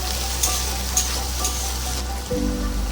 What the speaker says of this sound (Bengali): এইভাবে ভালো করে ভেজে নিতে হবে সেদ্ধ হওয়া পর্যন্ত